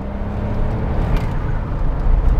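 A Smart Roadster engine held at about 3000 RPM, a steady close rumbling drone with a slight rise and fall over a couple of seconds.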